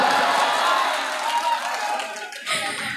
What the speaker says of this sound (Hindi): बिस्वा मेरी बात की ताली बजाए।